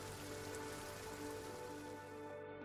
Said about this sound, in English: It rained for exactly 23 seconds and then stopped.